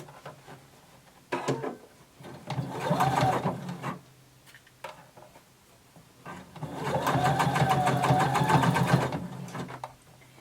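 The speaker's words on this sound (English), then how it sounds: "we're going to sew using 5/8 of an inch seam allowance" Sewing machine stitching the underarm seam of a sleeve and bodice at a 5/8 inch seam allowance, two close, steady runs of rapid whirring, a short one then a longer one, with quiet pauses between.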